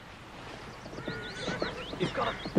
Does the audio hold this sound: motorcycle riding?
no